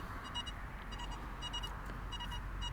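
Faint repeated electronic beeps from a Deus II metal detector pulse in short bursts over a steady hiss, its signal tone sounding again and again in a muddy sheep field.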